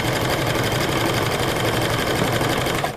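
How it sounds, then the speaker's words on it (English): A sewing machine runs a zigzag stitch along the edge of stretch fabric, a fast, steady mechanical whirring and rattling close by, continuous for the whole stretch before stopping at the end. "And I will start sewing with zigzag. I will make sure that the zigzag hits the very edge"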